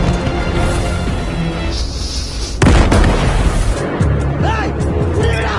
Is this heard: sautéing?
no